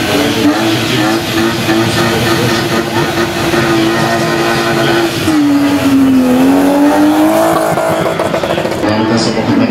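A BMW E30 rally car races loudly at a rally-and-race event in Jarocin. Its engine note rises and falls through a sustained run, with tyre noise and crowd chatter around it.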